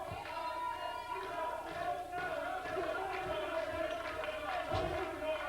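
A wrestling crowd at an NWA Wildside show cheers and roars steadily throughout, a dense sustained wash of voices with shouts rising through it.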